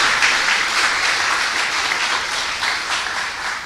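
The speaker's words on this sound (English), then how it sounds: "Ladies and gentlemen, let's give Luan John a round of applause." Sustained audience applause at an International Women's Day recognition awards ceremony, a steady dense wash of many hands clapping throughout, fairly loud and continuous with no talk over it.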